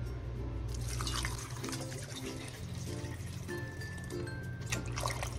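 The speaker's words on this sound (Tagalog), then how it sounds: "buhusan natin siya ng tubig" Water poured from a tap into a pot of beef neck bones and meat for sinigang, a steady running, trickling stream with drips and splashes, moderately close, over a low continuous background hum.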